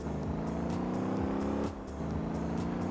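Steady engine drone with shifting harmonics from a car drifting at speed in the video game Motor Town, loud and continuous with a brief dip near the end.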